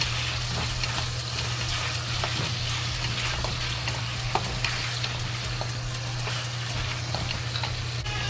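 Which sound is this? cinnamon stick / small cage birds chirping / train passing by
cinnamon stick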